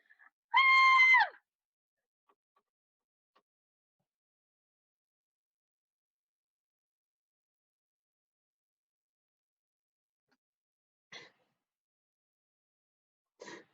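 During a school spring stage play, a single shrill scream rings out loud for about a second, then near silence with two faint brief sounds later on.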